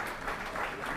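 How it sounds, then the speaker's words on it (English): MPs applauding in the House of Commons, a steady dense patter of many hands filling the chamber for a brief moment with no break. "I'm sorry we're still clapping"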